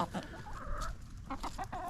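Several chickens cluck and murmur nearby in short, overlapping calls, fairly quiet and unhurried.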